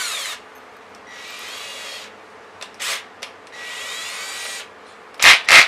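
A power drill whirs in two sustained bursts, then gives several short loud zips as a screw is driven in while installing car mud flaps, with faint rubbing between.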